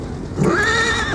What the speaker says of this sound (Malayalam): ഇതാണ് കുതിര കേട്ടോ